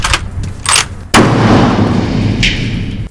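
A .223 rifle fired at an indoor shooting range: a sharp, loud report rings on with a long booming decay, with fainter shots and clatter before it and another lighter crack near the end.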